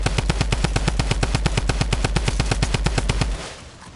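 Rapid automatic gunfire in the video game Fortnite, a loud close burst of about thirty evenly spaced shots that stops abruptly and leaves a short fading tail.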